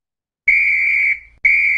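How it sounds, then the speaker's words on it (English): A shrill, steady whistle serves as a timing signal in a workshop class, sounding two loud sharp blasts in quick succession. "when they hear the whistle"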